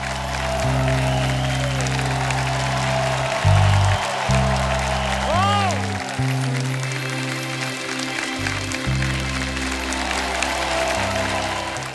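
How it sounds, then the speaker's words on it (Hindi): A studio comedy-show audience applauds as a singer is welcomed onstage, steady sustained clapping running throughout beneath loud stage music and whooshing sound effects. "तो आप सबकी जोरदार तालियों के बीच एक एक करके मंच पे आमंत्रित करूंगा"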